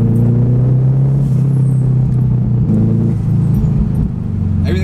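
A turbocharged Honda S2000 drives along with a steady, deep engine drone and rumble, holding fairly constant revs with small shifts in pitch, loud and close from inside the car.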